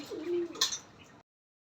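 Pigeons cooing at a goat and bird keeper's yard, a soft low coo followed by a brief sharper chirp, close by, and then the clip falls silent.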